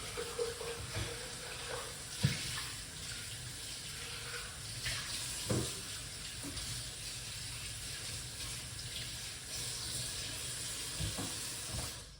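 Green grape juice pours through a kitchen strainer in a soft, continuous liquid trickle, faint and close, broken by a few small clinks and knocks.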